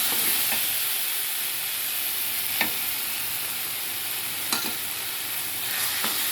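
A drumstick curry simmering in oil in a pan gives a steady close sizzle, with a spoon stirring and scraping against the pan in a few distinct strokes.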